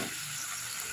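Spice paste of ground coriander, cumin, chilli, turmeric, ginger and garlic sautéing in a pan, a steady close sizzle and hiss running unbroken throughout with no talk.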